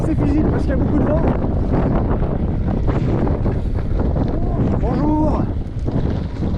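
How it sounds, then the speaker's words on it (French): Heavy wind roars across the microphone while cycling along a flat stretch of a triathlon bike course near Cournon, steady and loud, with voices briefly audible through it. "Encore une portion à plat qui aujourd'hui est assez physique parce qu'il y a beaucoup de vent"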